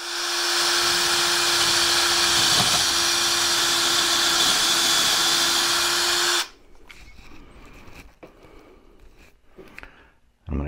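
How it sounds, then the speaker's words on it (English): A power tool whines loud and continuous for about six seconds as it drives a lag bolt in, then cuts off abruptly, leaving faint handling clatter. "going to take my lag bolt here. I'll just get this screwed in."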